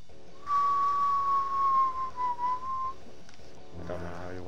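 In the video game Final Doom: TNT Evilution, a single clear whistled tune holds a wavering tone for about two and a half seconds over a soft game background. Game music follows after the whistle stops.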